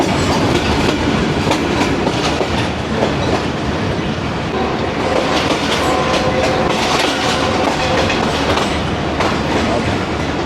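The 42DN Karakoram Express passenger train, running from Bahawalpur to Karachi, rolls along steadily, its wheels giving a loud, continuous clickety-clack with rumbling carriage noise heard from on board.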